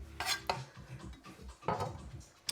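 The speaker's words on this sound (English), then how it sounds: "All right, so we're chopping up these capers." A knife chops capers on a kitchen board, giving a few sharp, close knocks and clatters spaced irregularly, with no talking.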